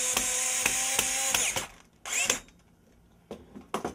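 A power drill drives a screw into a pre-drilled hole while a TV antenna is being built, giving a steady whirring run of about a second and a half, then short bursts of whir and scraping.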